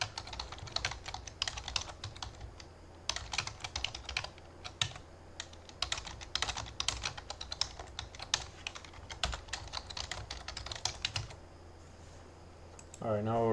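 Rapid, continuous clatter of computer keyboard keys as C++ code is typed, steady bursts of close keystrokes with brief pauses, ending in a short pause before a voice begins.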